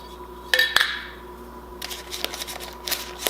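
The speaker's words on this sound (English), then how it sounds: "Open my canned bacon here. Hear that good seal." A can of canned bacon being opened: a sharp metallic pop and clink as the seal breaks, followed by softer scraping and rattling of the lid, close and with no talking.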